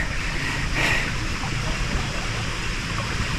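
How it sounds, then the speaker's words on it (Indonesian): A river stream flowing beside a forest hiking trail on Puthuk Gragal, steady broadband water rush and babble filling the clip with no pauses, close and fairly loud. "Lihat aliran sungai di sepanjang trek atau awal trek kita ini."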